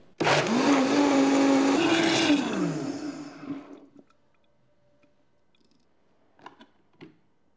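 A blender grinds a gram of softened cloves for homemade ketchup, a loud steady whirring roar that runs about three seconds, then winds down and stops, leaving a few faint clicks.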